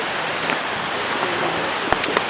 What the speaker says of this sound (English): You can smell the salt air in the water here.